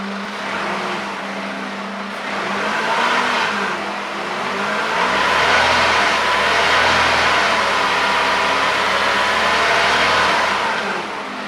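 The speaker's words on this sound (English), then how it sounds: "Here, I'll step on the gas a couple times." Engine of a Mercedes SLK230 being worked on with a coolant error, revving as the gas pedal is pressed, a steady loud idle rising into a sustained swelling roar, close and continuous.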